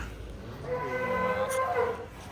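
A giant cow on a farm, leaving its barn, lets out one long, low moo that rises and wavers for about a second and a half, close and clear over a steady outdoor background hum.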